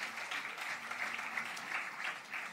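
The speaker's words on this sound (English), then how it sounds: "Can we have a round of applause for her," Steady applause from a crowd at an award ceremony, a dense wash of clapping held at an even level for a couple of seconds.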